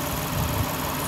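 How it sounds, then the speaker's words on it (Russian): A Toyota Crown Athlete's 3.5-litre V6 idles steadily and close by as the air conditioning compressor engages, a continuous low hum with no voices. "Включаем кондиционер."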